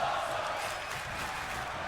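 A crowd in the WWE 2K25 video game cheers loudly and steadily, a broad roaring wash with no breaks.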